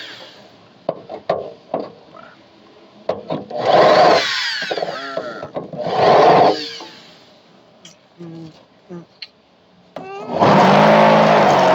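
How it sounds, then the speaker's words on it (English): A power drill bores out spot welds on a hatchback car frame during rear-end frame repair, coming in several loud sustained whining bursts separated by clanks, scraping and handling noises in a workshop. "Drilled all the weld spots"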